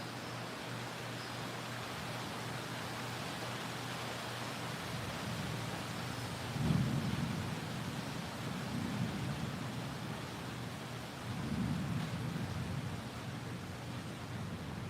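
Rain falls outside in a continuous, broad hiss with low rumbling swells rising twice, steady and moderately distant with no voices.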